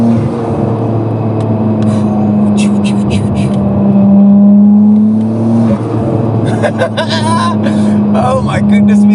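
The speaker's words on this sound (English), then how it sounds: "Listen to the sound that these turbos make." Twin-turbo Tomei Nissan Skyline R34 with a stroked RB26 under load on a Cape Town drive, loud sustained engine drone with a rising and falling pitch, then sharp hissy turbo flutters and whooshes near the end.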